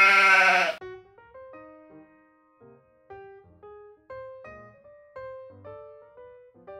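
A single sheep gives a loud, close bleat inside a barn built on a pier, then falls silent as a sparse run of clear melodic tones follows.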